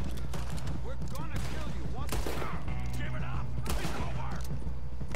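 Rapid revolver gunfire in Red Dead Redemption 2 on PS4 crackles in a dense, loud stream of overlapping shots, mixed with other game noise and what sounds like voices.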